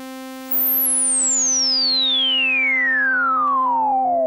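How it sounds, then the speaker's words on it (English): A bright resonant synth tone from SynthMaster One whose filter sweeps smoothly downward from high to low over several seconds, steady and loud, ending abruptly. "there's actually less distortion in the filter sweep, especially at high cutoff frequencies"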